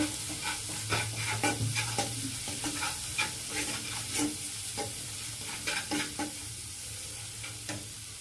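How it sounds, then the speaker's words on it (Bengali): Prawn malai curry masala with turmeric and salt sautés in a pan, a close sizzle broken by many sharp, irregular scrapes of a spoon stirring against the pan, with nobody speaking. "এটাকে আরেকটু ভালো করে কষিয়ে নিব"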